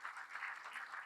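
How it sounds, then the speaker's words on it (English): Applause from a festival audience at a talk panel: a brief, faint patter of many hands clapping, steady and distant with no voices over it. "And as you clap for Leila Jagiella, also clap for Alina Jan"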